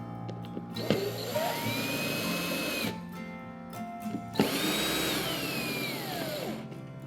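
Power drill driving Phillips head screws during assembly of an Otter Lodge ice shack, two sustained whirring runs of a few seconds each with a rising and falling pitch, close and fairly loud, separated by a short pause.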